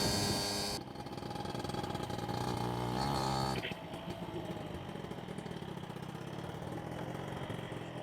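A Honda Hobbit moped engine idles steadily for the whole stretch, its sound getting slightly rougher and busier near the start before settling into a continuous, moderately loud running hum.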